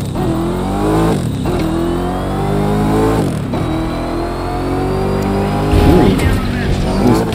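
Noble M600 supercar engine in The Crew 2, revving and accelerating hard through repeated gear changes with rising harmonic whine, loud and continuous, with a voice talking over it.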